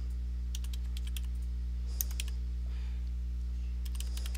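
Rapid clusters of keyboard keystrokes in short bursts with pauses, over a steady low electrical hum.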